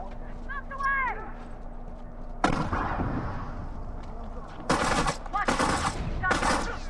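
Shotgun blasts in The Last of Us multiplayer ring out in sharp bursts, one heavy shot followed by a cluster of rapid loud reports, with a voice talking and game sounds in between.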